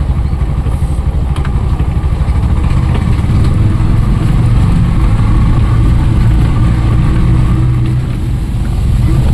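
A vehicle driven along a village road near Sakshbhairi, its loud engine droning and clattering steadily up close throughout, with no speech.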